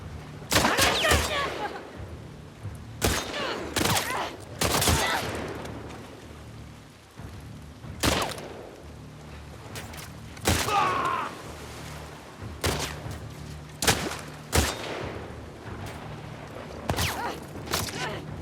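Shotgun blasts in the video game The Last of Us Part II, loud sharp bursts repeating irregularly every second or two with rumbling tails, and faint talk in places.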